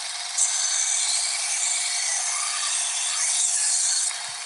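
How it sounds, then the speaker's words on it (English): A knife blade is held against a running belt sharpener, giving a loud, steady abrasive hiss and grind that lasts the whole stretch. The grind swells slightly near the end, and no one speaks. "You got to be very careful on anytime you're using a belt sharpener to sharpen knives."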